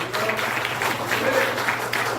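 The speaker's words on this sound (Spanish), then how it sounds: "dale ese aplauso al Señor" A church congregation claps together during a worship service, a dense, loud burst of applause lasting a couple of seconds, with some voices mixed in.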